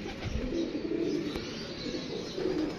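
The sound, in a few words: pigeon cooing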